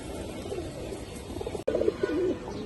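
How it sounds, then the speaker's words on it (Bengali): Pigeons kept in separate cages coo softly nearby, with a few low throaty coos rising against a quiet background hiss. "আমরা কবুতরগুলো আলাদা আলাদা খাঁচাই দেখি"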